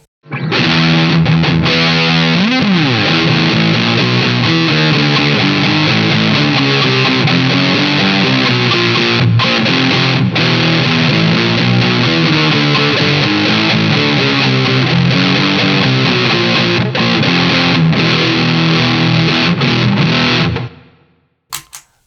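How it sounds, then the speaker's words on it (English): Fender JV Modified Telecaster electric guitar with a Stone Bender pushing a Muffletter fuzz, a dense, loud, saturated wall of sustained playing that runs continuously before cutting off abruptly. "If I push the stone bender into it, we get this."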